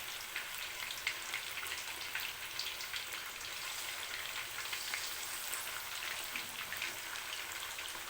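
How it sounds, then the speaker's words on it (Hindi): Fish pieces frying in hot oil for a saalan curry, a soft, even crackling sizzle with small pops that runs steadily and fairly quietly throughout, with no talk. "एक एक करके फ्राई कर लेते हैं पहले"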